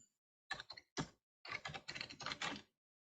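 Bursts of keystrokes on a computer keyboard while a balance sheet report is entered in QuickBooks Online, with a few quick taps, a pause, then a steadier run of typing, close and clear with no talk.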